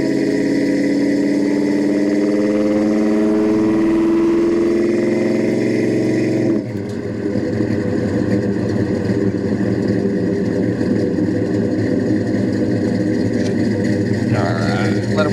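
A restored 1969 Plymouth GTX with a 440 V8 and automatic transmission idles while warming up, a loud steady rumble with a high whine that drops away partway through, then settles into a lower, rougher idle.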